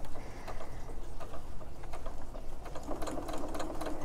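A Singer Quantum Stylus 9960 sewing machine stitches steadily and close by, a continuous fast whirring with fine rhythmic ticking throughout and no talking.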